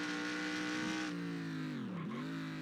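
A race car in NASCAR Racing 2003 downshifts into second gear through the final corner at Adelaide. The engine pitch drops in steps as the gears come down, a steady, fairly close roar with no voices.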